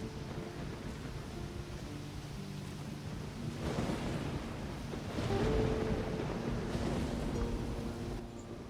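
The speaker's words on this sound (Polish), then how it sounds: "Słaba ta burza. W ogóle... A dobra, trochę pada." Weak storm rain falls in the fantasy video game Risen, a soft, steady wash of rain with a low rumbling, windy roar that swells midway and then eases, with no speech.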